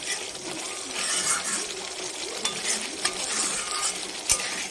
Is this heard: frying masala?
yes